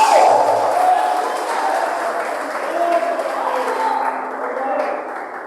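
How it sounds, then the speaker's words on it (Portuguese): A church congregation at a worship service claps together in a sustained, even wash of applause, moderately loud and diffuse, with voices and a faint tonal ring mixed underneath, fading slightly toward the end. "levanta a mão e aplaude o Senhor"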